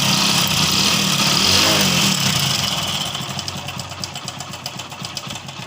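Close, steady idle of a Hero Passion Pro motorcycle engine with worn bearings and piston, a rough rhythmic knocking chug that eases slightly in loudness toward the end, with no talking.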